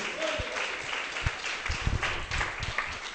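A church congregation claps for the Lord during a sermon, a continuous moderate patter of many hands with a few low thumps, fairly even throughout.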